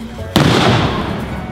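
A single sharp firework blast bursts close and loud, then a crackling, sizzling tail fades over the next second, with a backyard gathering audible around it.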